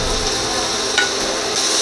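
Ground cumin, Kashmiri red chilli and turmeric fry in a pan over medium heat for a mushroom curry, a steady close hiss with scraping as a spoon stirs them, one brief clink, and no talking.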